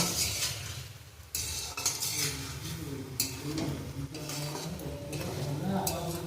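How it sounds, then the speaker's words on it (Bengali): Boiled eggs fry in a turmeric and chili spice masala as a spatula stirs and scrapes the pan, soft sizzling beneath clinks and irregular scraping strokes, close up with no voice. "এখন এই মশলার মধ্যে ডিমগুলো একটু কষিয়ে নেব"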